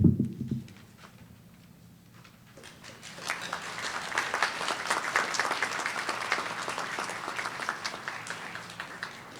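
Graduates at a community college commencement rise and applaud their families and friends. A brief voice and a quiet pause come first, then a broad wave of clapping builds and holds steady from many hands across a large hall.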